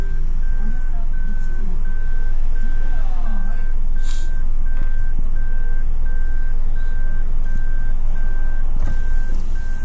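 A car ahead pulls out while its reversing alarm beeps steadily in a regular pulse, heard over loud broadband engine and road rumble, with people talking nearby.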